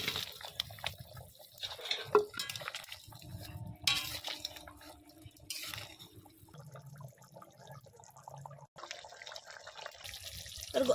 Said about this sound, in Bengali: এর মধ্যে আমি দেবো গরম জল